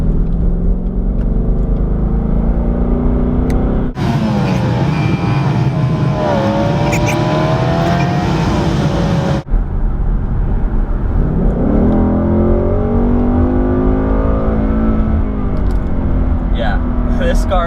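A 2020 Ford Mustang GT's 5.0-liter V8 engine revs and accelerates in sport mode, rising in pitch through the gears, loud and close, with a voice talking over parts of it.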